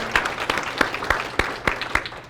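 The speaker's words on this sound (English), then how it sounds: "let's clap for that" A seminar audience gives brief applause, a sparse patter of individual claps with several louder distinct hits, moderately near, lasting about two seconds with no voices over it.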